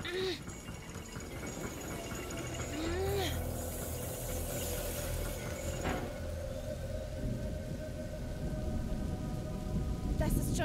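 Steady rain and rumbling thunderstorm in the video game A Plague Tale: Innocence, a constant wash of rainfall with low thunder beneath, heard under characters speaking and game sounds.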